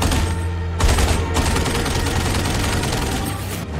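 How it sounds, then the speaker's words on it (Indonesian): Rapid machine gun fire from World War II fighter planes in an aerial dogfight film, a loud, dense, continuous burst of rattling shots with a brief pause and mechanical clatter. "tiga pesawat Jerman mengejar mereka dari belakang. Seorang rekan pilot Nikolai tewas tertembak"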